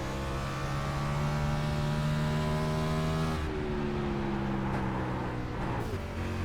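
A NASCAR Cup stock car roars steadily at Bristol Motor Speedway in a sim racing game, its engine note holding loud and close, then shifting pitch as it slows.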